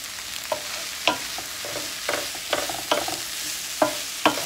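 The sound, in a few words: stirring zucchini and bell peppers in a pan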